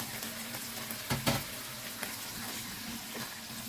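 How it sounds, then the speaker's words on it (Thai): Fingerroot (krachai) stir-fried in a pan for a Thai seafood stir-fry with squid and shrimp, a soft steady sizzle with a couple of brief louder scrapes of stirring near the middle, no talking. "กระชายค่ะ ผัดให้หอมเลยค่ะ"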